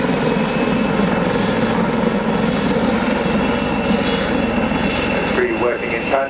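A Westland Lynx helicopter performs a flying display at the RIAT airshow, its rotor and engine roar loud and continuous throughout while a commentator talks over it.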